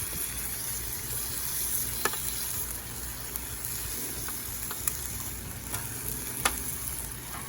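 Smoked chicken wings sizzle steadily on a well-seasoned Blackstone 36-inch griddle with no oil, producing a dense, even frying hiss with scattered tiny pops and crackles, close up, with nobody speaking.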